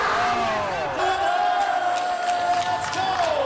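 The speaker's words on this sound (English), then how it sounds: "Give it a big round of applause up on stage." Crowd at a gaming expo stage cheering and applauding for a PC giveaway winner, a steady, fairly loud wash of claps and shouts with an amplified voice ringing over the top.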